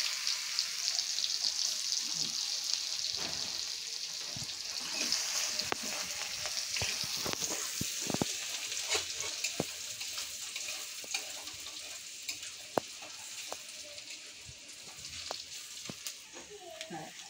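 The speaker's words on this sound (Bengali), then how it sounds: "রসুনটা একটু লাল করে ভেজে নিলাম" Crushed garlic fries in a pan alongside dried red chillies, giving a steady close sizzle with occasional stirring scrapes and taps that continue throughout.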